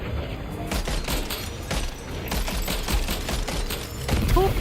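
Gunfire from a player's weapons in Death Stranding 2 on PS5, rapid sustained bursts of shots in a dense, continuous volley, loud and close, with a brief voice near the end.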